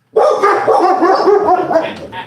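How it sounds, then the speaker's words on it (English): Dogs bark and yip loudly in a room, a close, continuous burst of barking lasting a couple of seconds with little pause. "No barking for you."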